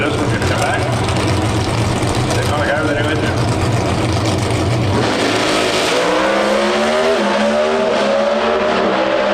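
A Pro Stock drag race car at the NHRA Route 66 Nationals in Chicago roars loudly, its engine tone climbing as it accelerates down the track, with announcer commentary running over the noise.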